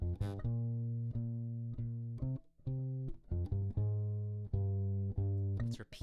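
Guitar playing the opening two bars of a song, clear sustained plucked notes in a steady repeating rhythm, close and alone with no talk.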